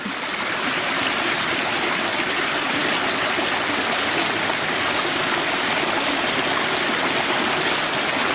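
Steady rushing of a flowing stream at a mine, a constant broadband water noise close by with no pauses or voices.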